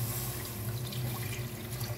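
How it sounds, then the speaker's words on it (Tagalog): Water pours steadily into a cooking pot holding tomato-paste pasta sauce, a continuous close splashing and trickling with a low hum underneath and no talking. "And then, lagyan na natin ng tubig."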